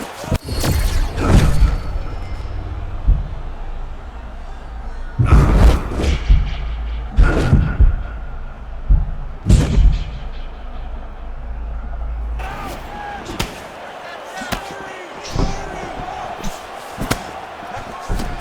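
Heavy body punches land in a UFC 6 video game bout between Joshua Van and Charles Johnson: several loud, thudding impacts in separate bursts, with a crowd murmur and commentary underneath.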